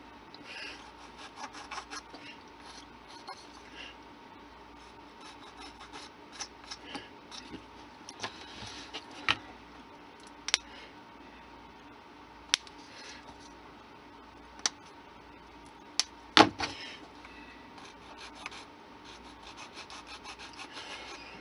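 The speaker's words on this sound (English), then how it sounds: "I'm going to cut most of the excess off with sprue cutters, and then I'm going to finish it up with a file" A small file rasps in quick, quiet back-and-forth strokes while model bracing is trimmed for a model railroad crate load. Several sharp snips from sprue cutters punctuate the filing at irregular intervals.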